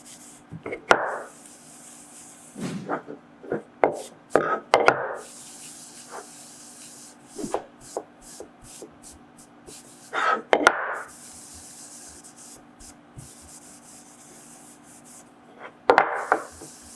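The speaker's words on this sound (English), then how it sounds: "I finished this off using some Danish oil because I like the way it smells and looks" A wooden pencil holder is rubbed with Danish oil by hand, giving intermittent soft scuffs and swishes of cloth on wood in short bursts over a quiet background.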